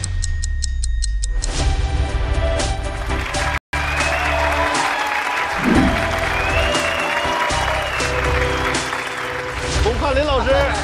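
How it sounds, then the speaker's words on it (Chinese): A studio audience at the 2022 Liaoning TV Spring Festival Gala claps to welcome guests on stage, a broad wash of applause blended with music and a host's voice. "来，咱们掌声有请"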